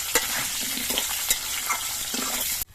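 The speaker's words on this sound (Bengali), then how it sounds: "এবার আলুগুলো কিছুক্ষণ ভেজে নিতে হবে" Potatoes fry in oil with a steady, close sizzle, broken by several scrapes and stirs of a utensil before the sound cuts off abruptly near the end.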